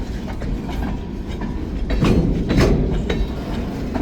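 A freight train with boxcars rolls past close by, wheels clicking and clacking rhythmically over a heavy steady rumble that swells slightly midway, loud and continuous.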